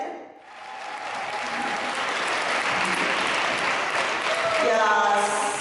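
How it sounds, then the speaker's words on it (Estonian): An audience at a folk dance festival applauds in steady, sustained clapping that swells toward the end, with some faint voices mixed in. "Aplaus teile!"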